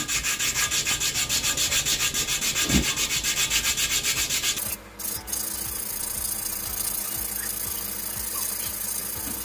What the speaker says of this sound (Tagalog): meron akong 128 na liha. So para mabilis natin siyang maliha